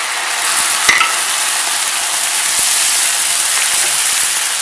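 Dry white wine hits a hot pan and sizzles loudly and steadily, a dense bright hiss close up with a couple of faint clicks, no talk.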